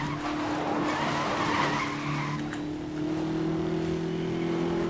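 A car slides sideways in Need for Speed: Most Wanted (2012), its tires letting out a long continuous skid and squeal over the steady drone of the engine.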